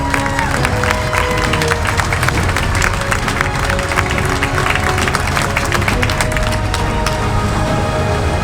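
A crowd at an outdoor freedom rally applauding the county board supervisors, dense, loud, continuous clapping mixed with some cheering that fills the whole stretch at a fairly even level.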